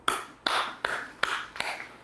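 Five slow, crisp hand claps sound close by in a quiet classroom, evenly spaced and fading slightly toward the end.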